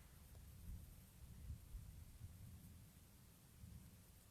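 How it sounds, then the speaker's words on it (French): Low rolling thunder rumbling faintly and continuously in the distance, a soft steady hiss of rain-like noise above it. "le roulement de tonnerre, un énorme roulement de tonnerre."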